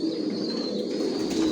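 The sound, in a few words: racing pigeons cooing in loft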